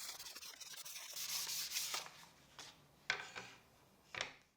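Wood being sanded in a woodworking shop gives soft, quiet rubbing strokes, a longer scratchy pass followed by a few brief separate swipes.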